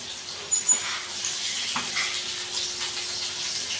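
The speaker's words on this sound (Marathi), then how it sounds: "त्यामध्ये जे स्लायसेस तयार करून ठेवलेले होते रताळ्याचे ते घालायचे आहेत आणि व्यवस्थित हलवून द्यायचं आहे" Sweet potato slices sizzle in hot ghee as they are stirred in the pan, a steady bright hiss with a couple of soft clatters near the start and a light knock midway.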